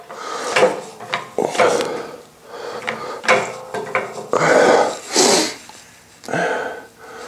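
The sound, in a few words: pressing a gear onto an engine shaft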